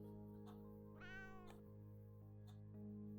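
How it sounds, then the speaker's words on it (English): A single drawn-out cat meow rises and falls over a steady musical backdrop in the hidden-object game Hidden Paws Mystery, with soft chimes around it. "I heard a meow"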